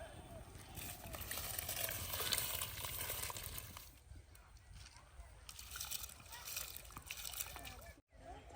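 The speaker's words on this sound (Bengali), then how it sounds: "জল ফুটে গেছে, চাল ছেড়ে দেবো।" Rice goes into a pot of boiling water, with sloshing, splashing and gurgling that swells and fades close by, while voices talk in the background.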